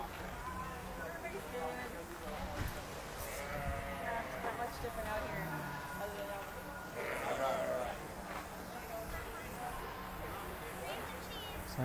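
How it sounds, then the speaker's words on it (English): Goats bleat at Rafiki's Planet Watch in Disney's Animal Kingdom, several calls rising out of a busy crowd and chatter, moderately loud and mixed with footsteps and background noise. "Looks like we got some more goats over here."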